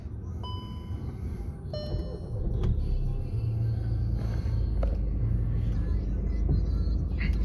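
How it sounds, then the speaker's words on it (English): A 2009 VW Golf Mk6 GT TDI 140PS diesel with a 6-speed gearbox and 116,000 miles is started from behind the wheel. Soft chimes come first, then the engine catches and settles into a steady, even idle rumble. "Right, let's just start the car up."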